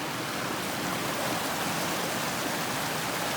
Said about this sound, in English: Beautiful little brook.